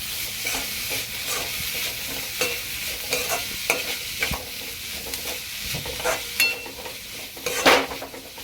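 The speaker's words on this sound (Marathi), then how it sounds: "हिरवी मिरची, सिमला मिरची आणि हे डंडल. हे सुद्धा व्यवस्थित फ्राय करून घ्यायचं याच्यामध्ये." Green chilies and capsicum fry in a pan while a spoon stirs and scrapes repeatedly, giving irregular clinks and scuffs over a steady close sizzle, with no talking.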